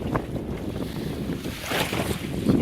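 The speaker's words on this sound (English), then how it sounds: "The wind's still blowing 20 to 30, plus 40 and 50, almost up to 50, 45." Strong gusting wind buffets the microphone in Duluth harbor aboard a small sailboat, a rough continuous roar swelling in gusts, with waves and water washing close by and no speech.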